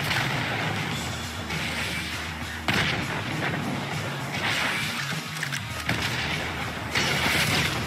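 Gunfire from a flare gun in Grand Theft Auto 5, a dense run of loud, close blasts and booming impacts layered over heavy game noise across the whole stretch.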